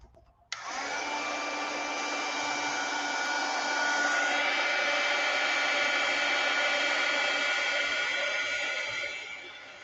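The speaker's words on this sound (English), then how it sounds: "I'm going to dry this one really quick so you guys can see." A heat tool blows steadily and loudly to dry a mixed media artist trading card with vintage pattern paper, collage and texture, starting abruptly and whirring alone for nearly ten seconds without talk.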